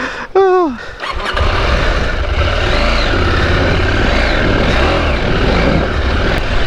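A Husqvarna Norden 901 motorcycle ploughs through deep sand, its engine roaring loudly and steadily close by after a brief rising squeal at the start.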